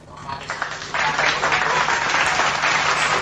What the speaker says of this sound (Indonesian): tepuk tangan untuk Bang Suma.